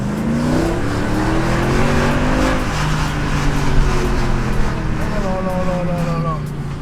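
A 487-horsepower Mercedes C63 AMG engine revs hard after a downshift and climbs through the gears, its rising harmonic whine loud and close, with a roaring exhaust throughout.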